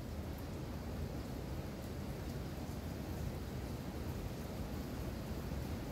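Heavy rain falling outside, a dense, steady hiss of even noise with no breaks, soft and distant-sounding.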